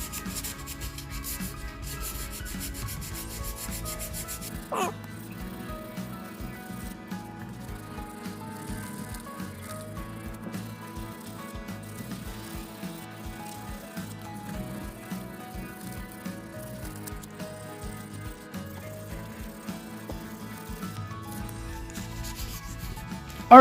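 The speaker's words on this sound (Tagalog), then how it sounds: "Ito yung medyo makinis na liha itong gamitin natin guys." Fine sandpaper rubbed back and forth along a guitar fretboard in a steady, even rhythm, close up and continuous, with a soft scratchy texture and no talking.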